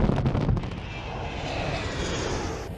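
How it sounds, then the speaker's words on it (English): A B-1 Lancer supersonic bomber in flight gives off a steady, loud broadband jet roar. The sound starts with a heavier low-end rumble and then holds a continuous airy rush to the end. "Once airborne, the B-1 Lancer becomes a formidable force in the sky"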